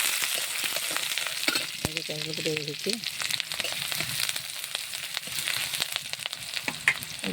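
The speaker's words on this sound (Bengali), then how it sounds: "আমি এখন কাঁকল ভাজা করবো" Spiny gourd (kakrol) frying in oil with chili, cumin and onion in a pan gives a steady, loud, close sizzle throughout, with a voice speaking briefly over it.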